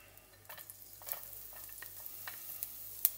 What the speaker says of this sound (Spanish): Esperaremos que se caliente y echaremos la cebolla y el ajo.